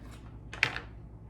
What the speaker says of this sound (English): let me cut this Mint Streak